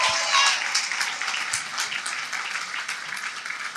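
A church congregation bursts into loud applause during a Spanish-language sermon, with many hands clapping in a strong, full burst at the start that eases into a steady, slightly thinner patter with a few sharp individual claps.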